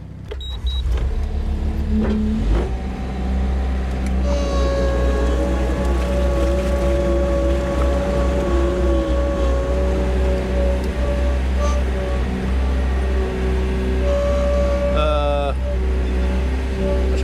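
Skid steer loader engine running steadily on a farm during silage bale wrapping, a continuous close diesel drone with a whining hydraulic tone layered over it for the whole stretch.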